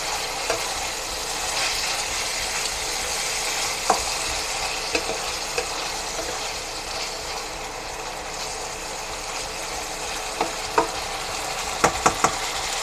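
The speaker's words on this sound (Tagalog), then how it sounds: "Para magisa yung liver, para maalis yung lansa niya." Liver frying in a pan for pancit bihon and sotanghon guisado, a steady sizzle with occasional scraping clicks of stirring, brief sharp taps clustering near the end.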